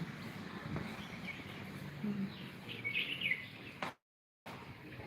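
Faint birds chirping in the distance over a soft outdoor hush in the mountains of Doi Luang Chiang Dao, Thailand, a few short twittering calls scattered through, then a brief silence.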